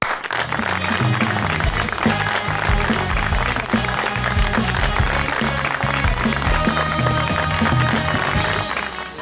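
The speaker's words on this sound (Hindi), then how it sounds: "बहुत सारी तालियों में उनको वेलकम करेंगे" A studio audience at a television talk show applauds steadily and loudly for a guest, with dense, sustained clapping for several seconds and no pause.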